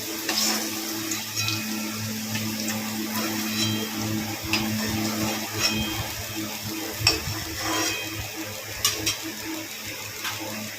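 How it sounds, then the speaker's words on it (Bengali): Potatoes fry in a pan with salt and turmeric, a steady close sizzle with occasional scraping stirs and light clinks running throughout, and no voices over it. "নুনের হলুদ দিয়ে আলুটা ভেজে নেব"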